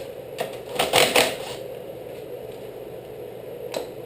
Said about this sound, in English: Loosen the bottom pinch bolts.